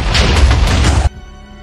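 A lab explodes in a Minecraft animation as one loud, dense rumbling boom that roars for about a second before cutting off sharply into a faint tonal hum.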